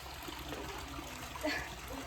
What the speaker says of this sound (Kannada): ಆ್ಯಂಡ್ ನೀರು ಕೂಡ ಬಿಟ್ಟಿದ್ದಾರೆ